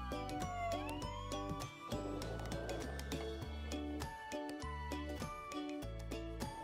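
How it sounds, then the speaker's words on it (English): A toy ambulance siren wails in a steady electronic tone over a bright chiming melody, loud and continuous throughout with no talking. "The ambulance is here."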